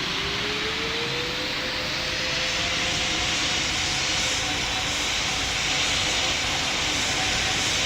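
Airliner taking off in Pilot Training Flight Simulator, a loud steady jet engine roar with a rising whine as the plane builds power down the runway, with no voices heard.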